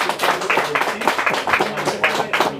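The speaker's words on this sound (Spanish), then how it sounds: "aplauso para ustedes, bien bonito." An audience at a Mother's Day mariachi performance gives a short round of applause, the scattered claps pulsing unevenly in loose bursts at moderate volume.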